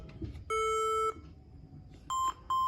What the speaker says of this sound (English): you can hear the sound, the beep sound